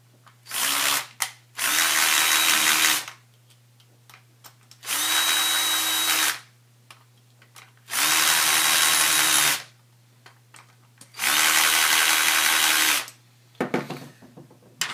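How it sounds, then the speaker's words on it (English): An electric screwdriver drives screws down while assembling a dome, giving four loud, close whirring bursts of about one to two seconds each, separated by short pauses, with light handling clicks between them. "I'm just going to use my electric screwdriver and screw them down"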